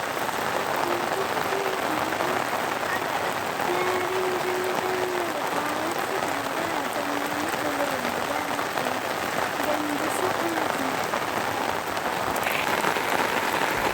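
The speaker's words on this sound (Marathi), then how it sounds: "खूप जोरात पाऊस चालू आहे." Torrential rain pours down on a rooftop terrace as a thick, unbroken hiss of close raindrops, with a voice talking over it for much of the time.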